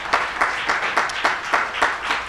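An audience applauds in a steady patter of claps with regular swells, moderately loud and close, no voices over it.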